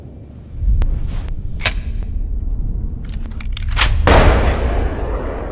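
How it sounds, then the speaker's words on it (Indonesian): A hunting rifle shot in a tense film scene near a villa, heard as sharp impulsive cracks among dense background rumble and music, with a louder burst toward the end. "mendengar suara tembakan"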